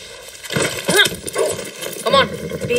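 A horse in Far Cry 6 gives whinnying, neigh-like calls over rhythmic hoof clip-clop and game ambience, with two prominent vocal bursts.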